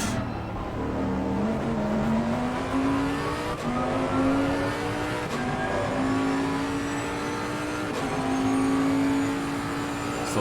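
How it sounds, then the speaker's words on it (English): Racing cars in a Brophy Trophy session speed down the track, their engines droning loudly and steadily with the pitch climbing through the gears across the whole stretch, with no talking. "These two absolutely charging towards the back of Constable's car."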